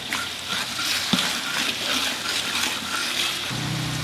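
Ground ginger and garlic stir-fried with tomato in a large pot of beef curry for seventy people: a steady sizzle with scraping stir strokes and one sharp clink, with a low hum entering near the end.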